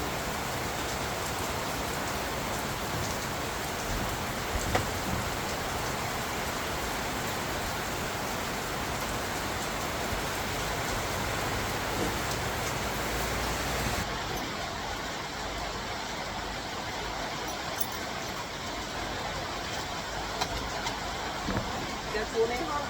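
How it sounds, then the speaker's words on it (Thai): Steady, dense rain hissing without a break, a constant wash of falling drops that softens slightly toward the end. "ฝนตกก่อน"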